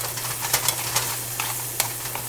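Ground beef browning in a pan for quesadillas gives a steady sizzle and fry hiss, with a few sharp scraping stirs and spatula taps standing out close by.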